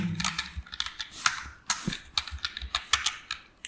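A name typed on a computer keyboard while writing a user-input program: quick, crisp, close-up key clicks in uneven bursts with short pauses, and no talking.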